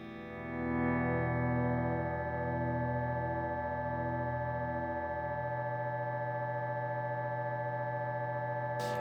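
A sustained, shimmering guitar loop held frozen in a Chase Bliss Mood Mk2 pedal with reverb, steady layered drones and tones ringing on without break, a low part dropping away midway, no voices.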